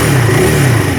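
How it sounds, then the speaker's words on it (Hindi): A KTM Duke 390 motorcycle engine runs steadily at idle, close and loud, with a low throbbing hum and no voices. "ये इस तरह का आपका इंजन किल स्विच आपको ऑन करना है और योर बाइक इज़ स्टार्टेड।"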